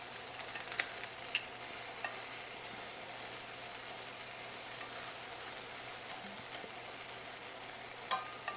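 Garlic cloves and vegetables frying in a skillet over a flame, a steady soft sizzle with occasional clicks and stirring scrapes, close and continuous with no talking.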